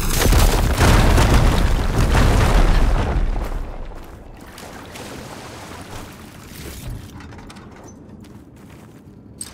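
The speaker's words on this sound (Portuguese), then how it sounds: "Preparando uma explosão." An explosion in the video game Horizon Forbidden West, a loud, deep rumbling boom that swells for a few seconds and then decays into a long, fading low roar, with no speech.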